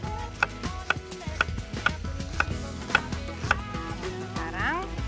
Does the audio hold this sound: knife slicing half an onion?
yes